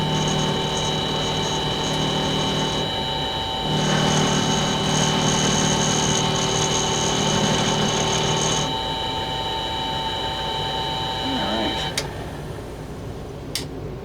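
A mini lathe hums steadily while cutting a bevel on a pellet gun part, close and continuous with shifting tonal whine, briefly rising in pitch mid-cut, then easing off with a few clicks.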